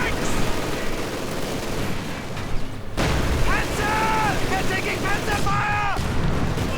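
A mortar round explodes in the World War II strategy game Company of Heroes 2, a loud boom in a dense stretch of battle noise, with a commentator talking over it throughout.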